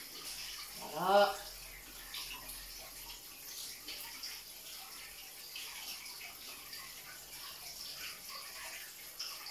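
Hands are rinsed under a running kitchen tap, giving a soft, steady trickle of water with a brief louder splash near the start. The sound is faint and close.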